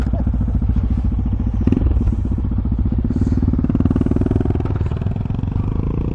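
A 2013 Suzuki Boulevard cruiser motorcycle runs at a steady low-pitched throbbing idle close by, with one brief thump partway through and a faint rise in engine tone near the end.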